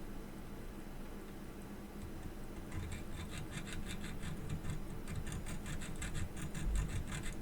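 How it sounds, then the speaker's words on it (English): A file rasps against a valve stem in quick repeated strokes, faint and close, growing into a steady scratchy rhythm after a quieter start. "I'm going to go for the extreme filing here"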